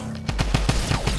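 Pistol gunfire in the video game Fortnite: a rapid string of about eight sharp, evenly spaced shots cracks out close and loud over a constant background hum.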